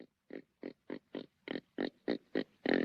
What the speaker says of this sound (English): that's just our new helper pig, Roscoe.